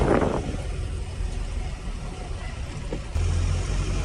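A truck loaded with solar panels drives along a road, with a steady engine rumble and road noise close by throughout and a slight rise in engine note near the end.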